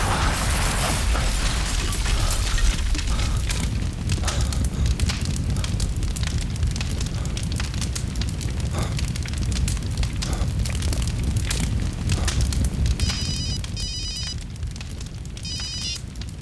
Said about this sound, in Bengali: ওরা বোম বিস্ফোরণে মারা গেছে?